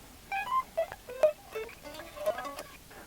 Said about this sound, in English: check out all of my high notes and make sure I don't have any dead spots